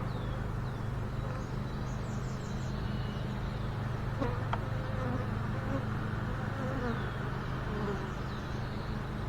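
Bees buzzing around an open beehive during a hive inspection, a steady close insect drone filling the scene with a few brief louder passes near the listener.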